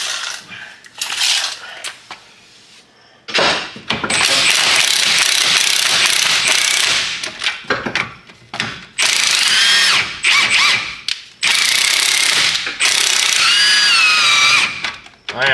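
A ratchet wrench works a nut loose while preparing a Nissan Altima race car, giving bursts of metallic clicking and clattering in close, loud runs separated by brief pauses.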